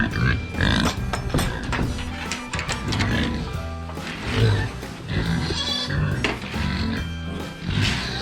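Big pigs on a farm at feeding time grunt and squeal loudly and repeatedly at close range in irregular bursts, with human speech mixed in.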